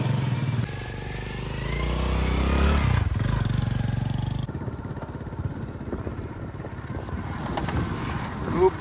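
A motorcycle carrying a generator rides between village fields on a hot, sunny day. Its engine drones loud and close, then shifts to a rougher, lower rumble partway through.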